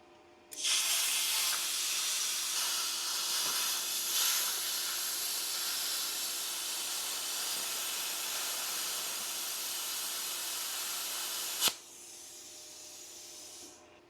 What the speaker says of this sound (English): It's kind of cool that you can just write your name with a plasma cutter